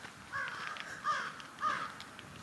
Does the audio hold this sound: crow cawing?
yes